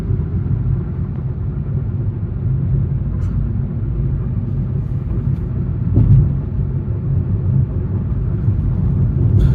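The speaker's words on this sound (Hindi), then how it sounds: "और अभी मैं इकोनॉमी मोड पे चला रहा हूँ" An electric car drives in economy mode with reduced power, and a continuous low road rumble and cabin noise hold steady throughout, with no voices.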